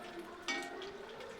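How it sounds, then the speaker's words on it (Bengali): Chicken pakora frying in hot oil gives off a soft, steady sizzle, faint and close, with a brief brighter crackle partway through. "লাল লাল করে ভেজে নেব।"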